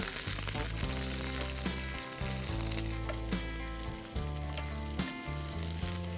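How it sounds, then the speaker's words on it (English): Curry leaves and onions fry in vegetable oil for a crab sukha masala, giving a loud, steady sizzle with tonal background music running underneath. "To this I'm just going to add a little bit of curry leaves. I'm going to add some onions."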